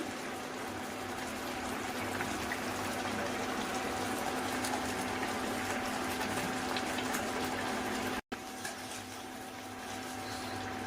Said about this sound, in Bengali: এখন আমি ইলিশ মাছের পিসগুলো দিয়ে দিচ্ছি